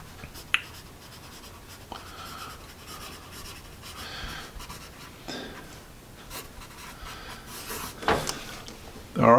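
An eraser rubbing at marks left by a soft-core vintage Russian graphite pencil, faint scratchy back-and-forth strokes with a few louder scuffs near the end.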